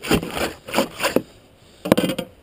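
A knife saws and cuts through a sturgeon just behind the last bony plate, giving close rough rasping strokes in short rhythmic bursts with a brief pause before a final few cuts.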